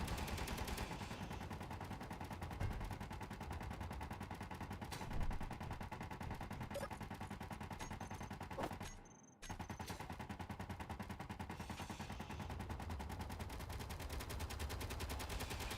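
Rapid automatic gunfire in the video game Space Engineers, a dense, continuous machine-gun rattle that runs almost without a break, cutting out briefly near the middle before resuming just as loud.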